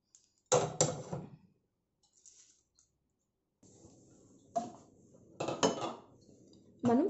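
Roasted whole spices for homemade masala being scraped from a pan onto a plate: sharp metallic clinks and scrapes of a spoon against cookware in several short bursts, separated by quiet gaps and a soft background hiss.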